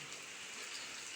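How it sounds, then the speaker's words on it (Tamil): Heavy rain pouring down onto flooded streets, a dense steady hiss of falling water, moderately faint and unbroken, with no voices. "பயங்கர மழை பெய்யுது"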